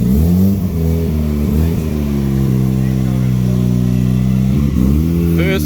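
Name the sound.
Mazda FC RX7 engine revving on its first drive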